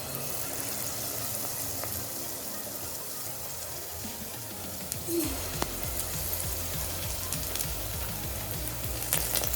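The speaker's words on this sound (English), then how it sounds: "take the florets of cauliflower, dip it into the paste and add it to the oil." Battered cauliflower florets for street-style Gobi Manchurian frying in hot oil, a steady close sizzle and bubbling that surges louder midway as more pieces drop in, with no talking.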